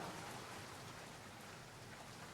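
Rain falls with a soft, even, continuous patter, faint and distant, with no pauses over a couple of seconds.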